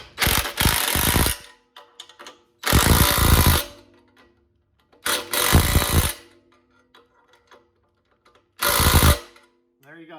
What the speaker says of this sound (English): take the old 1/2 inch impact jobby and boom, tighten her up a little bit